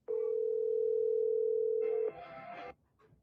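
An outgoing telephone call producing a single long, steady ringing tone for about two seconds, followed by a brief, fainter burst of line noise before it stops.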